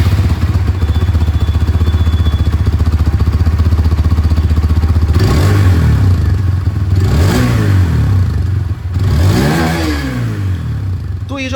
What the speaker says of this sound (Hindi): इसको एक बार ऑन करते हैं और देन मैं आप लोगों को यहाँ पर इसकी जो एग्जॉस्ट साउंड है वो सुना दूं